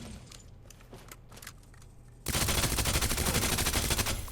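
A rapid, loud burst of gunfire from Resident Evil 2 Remake erupts suddenly and continues as dense repeated shots, following a quieter stretch of scattered clicks and thuds.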